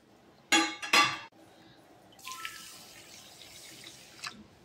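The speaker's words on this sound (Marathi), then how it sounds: "हे तांदूळ आपण थंड पाण्याने धुवून घेऊया" Rice being washed in cold water: two quick loud pours or splashes near the start, then a softer run of trickling, sloshing water with a faint clink, all close and without speech.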